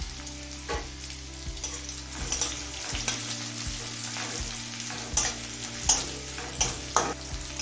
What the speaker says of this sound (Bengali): আদা, কাঁচা লঙ্কা, রসুনটা মিডিয়াম লো ফ্লেমে ভেজে নিয়েছি